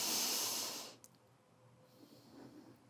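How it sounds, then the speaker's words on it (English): A long forceful breath through the nose during a pelvic floor exercise, a loud hissing rush that fades, then a quiet slow controlled exhale, close-up. "Go ahead and breathe in through your nose and slow controlled exhale."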